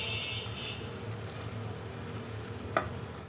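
Moong dal being fried (bhuna) in a pan with a little water, a soft, steady sizzle close by, with faint stirring and one sharp utensil clink near the end.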